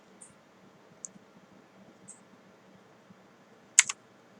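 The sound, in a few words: computer keyboard keys pressed for Cinema 4D shortcuts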